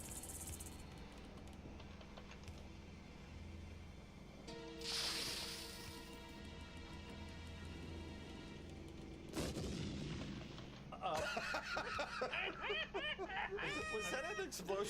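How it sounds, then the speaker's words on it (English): A film's explosion effect erupts midway as a heavy broadband boom, set among gunfire-like bangs, music and other busy soundtrack noise, with voices speaking over parts of it. "Was that an explosion from Star Wars?"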